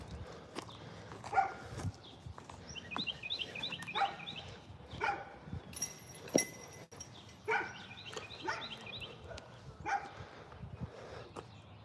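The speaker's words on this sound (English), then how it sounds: "Has some dogs barking at me." Several dogs bark in short bursts at a moderate distance, spaced irregularly across the scene, with faint clinks and footsteps in the background.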